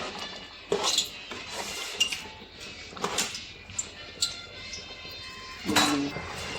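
Clinks and scrapes of a utensil against a cooking pot as a second masala of coconut, cashew, fennel and aniseed is stirred in for a chicken kurma, with intermittent metallic knocks at an uneven pace.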